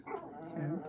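A dog close by gives a brief whimpering yelp in an indoor room, with a short spoken word from a person over it.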